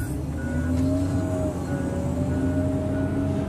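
A New Holland W190B wheel loader works nearby with a loud, steady diesel drone that holds level throughout, with no talking.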